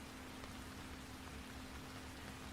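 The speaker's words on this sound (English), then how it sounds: "The pitter-patter of the raindrops rest on the leaves and fall toward the ground." Rain falling in the woods in a visual novel video game, a soft, even patter that hisses steadily throughout, alone with no voices.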